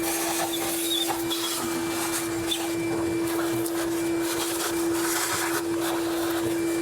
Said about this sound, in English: let's figure out how this vacuum works